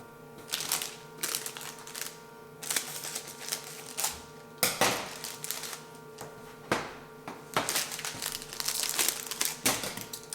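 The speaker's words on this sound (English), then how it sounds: "So use those scissors to trim open the cellophane bags." Cellophane cookie bags from a Valentine's Day cookie kit crinkle and crackle in irregular bursts as scissors trim them open, close and fairly loud with no talking.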